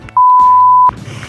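A censor beep sound effect cuts in over a conversation among friends: one steady, loud, pure tone lasting under a second, starting and stopping abruptly, with faint talk before and after it.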